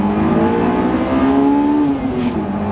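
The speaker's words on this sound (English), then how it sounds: "I got an AP1 because it revs up" Honda AP1 engine revs hard toward a high redline, the tone climbing steadily inside the car before easing off, loud and close.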